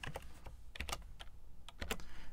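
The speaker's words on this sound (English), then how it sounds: "when I type this in," Fingers tapping out a short string on a computer keyboard, soft close keystrokes falling in small irregular clusters with quiet gaps between them.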